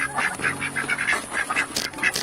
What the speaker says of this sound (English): And so they're all running together happily, quacking along.